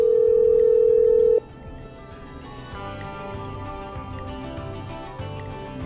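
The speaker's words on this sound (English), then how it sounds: "I'm dialing." A steady telephone tone in the video game Killer Frequency, loud and continuous, cuts off abruptly and gives way to a quieter musical background.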